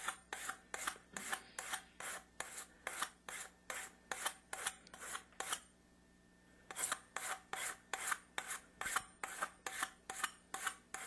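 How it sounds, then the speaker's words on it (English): A regular hand file rasping the chrome plating off a brass pipe, in quick, even back-and-forth strokes up close, pausing briefly partway through before the steady rhythm resumes. "We're just going to keep filing it down until we get it down to the brass part."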